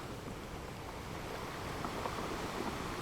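Sea waves wash onto a beach as a continuous, broad rushing surf that swells slightly louder toward the end, steady and fairly close, with no voices.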